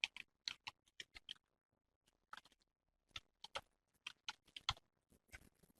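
Quiet, close computer keyboard typing in irregular bursts of light clicks, with a short pause near the middle before another run of keystrokes; no voices.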